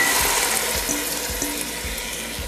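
Water pours into a soup pot of Italian vegetable minestrone with potatoes, a steady close splashing rush with faint clinks underneath.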